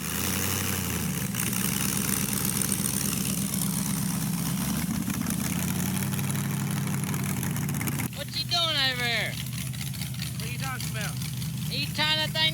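A car with a 4L60E transmission runs on jack stands, its engine droning loudly and steadily at a mid pitch, with someone talking over it near the end.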